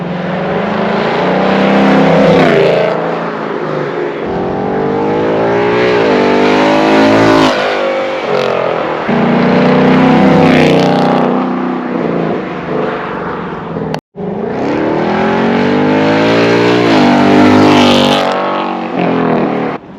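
Sports car with aftermarket exhaust passing by repeatedly, a loud engine roar rising and falling in pitch across several passes, with a brief drop in the middle before another close pass.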